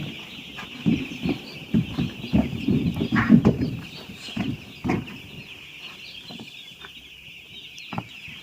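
Chickens in a poultry shed during cold weather, a flock clucking and rustling nearby in bursts over a steady high electrical hum, quieter toward the end.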